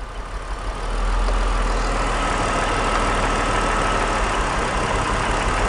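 A BMW E46 3-Series engine idles steadily under diagnosis for a misfire, a continuous close, loud hum with a low throb that swells slightly after the first second and then holds even with no voices.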